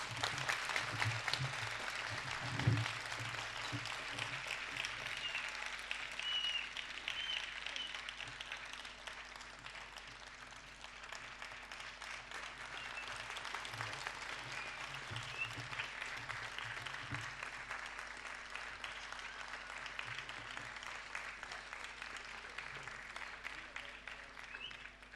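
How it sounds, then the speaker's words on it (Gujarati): Sustained applause from the audience at a dancer's arangetram fills the hall, a steady even wash of many hands clapping for about twenty-five seconds, moderately distant and not very loud, with a faint voice underneath. "આપણે કુમારી કેયાને તાળીઓના ગડગડાટ સાથે વધાવી લઈએ"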